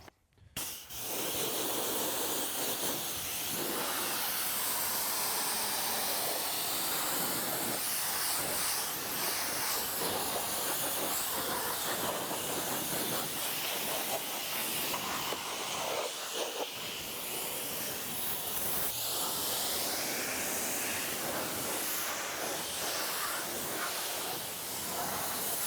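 A long, steady hiss of a water spray rinsing a car, loud and close, with slight shifts as the stream moves across the surface.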